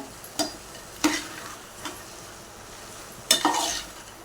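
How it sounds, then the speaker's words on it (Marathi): Goat head pieces stirred into cooked spicy masala in a pan: a steady sizzle underneath, with a few distinct scrapes and clinks of a spoon against the pan. "यामध्ये आपण मुंडी टाकून घेऊया मसाले आणि मुंडी एकजीव करून मिक्स करून घेऊया"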